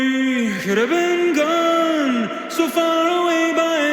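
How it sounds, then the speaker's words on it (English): A sung lead vocal drenched in heavy, swelling reverb, the long wash trailing behind each line and filling the space between phrases. "this reverb gets busier and busier and bigger and bigger"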